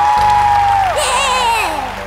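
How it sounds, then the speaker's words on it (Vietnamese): A studio audience on a Vietnamese TV talent show applauds and cheers to congratulate a young geography contestant. A bright musical jingle with sweeping tones sits on top, and the crowd noise runs underneath at a moderate level. "Xin vỗ tay chúc mừng"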